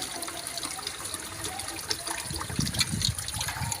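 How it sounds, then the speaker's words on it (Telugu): Fresh Godavari river fish washed by hand under running water, a steady trickle and splash of water over the fish, close and moderately loud, with a few heavier sloshes near the end and no talking. "ఇవైతే శుభ్రంగా ఇలా కడగాలండి."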